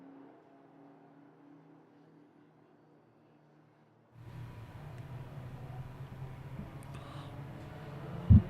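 Time attack race car, likely a street-class Subaru or Toyota MR2, suddenly roaring in from quiet as it passes on track, a sustained mid-distance engine drone continuing to the end.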